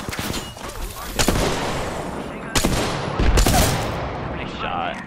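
Gunfire in the battle royale shooter Apex Legends, with several loud shots and bursts cracking out near the one-second mark and again around three seconds, over a busy game background.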